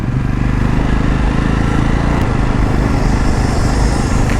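A Jawa 42 2.1 motorcycle engine runs loud and close, a steady dense throbbing rumble that stays even throughout without any speech.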